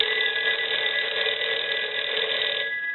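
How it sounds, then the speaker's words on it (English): An old Western Electric 302 rotary dial telephone bell rings in one continuous metallic trill, loud and close, stopping just before the end. "So we'll go ahead and ring the telephone now."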